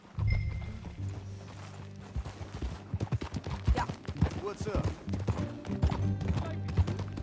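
Horse hooves clip-clop at a riding pace in Red Dead Redemption 2, an irregular run of loud close hoofbeats mixed with a short spoken exchange.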